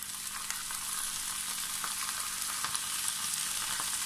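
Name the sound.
cabbage frying and being stirred in a pan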